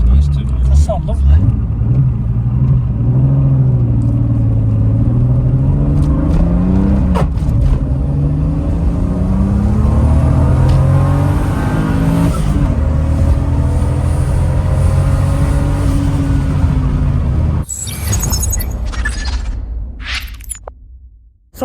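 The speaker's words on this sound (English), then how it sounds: "This is the N55 engine out of the M2 Competition. Sounds nice too." BMW N55 engine from an M2 Competition, swapped into an E36, idling and revving with rising and falling pitch sweeps, steady and close, with people talking over it before it cuts off near the end.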